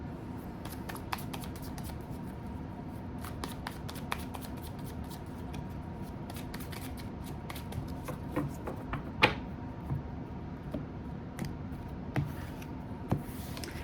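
Tarot cards being shuffled: soft riffling and sliding with scattered crisp snaps, close and fairly quiet, continuous throughout.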